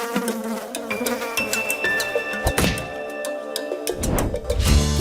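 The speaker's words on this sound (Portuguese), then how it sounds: "O mosquito Aedes aegypti é responsável pela transmissão da dengue, do Zika vírus e da chikungunya." Aedes aegypti mosquito buzzing, a thin sustained whine weaving up and down in pitch, interrupted by a few soft thuds, with no voices.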